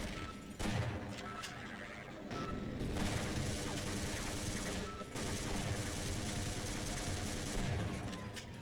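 Automated turrets firing in the Half-Life video game: loud, dense, sustained rapid gunfire that runs almost unbroken, with a couple of very brief breaks.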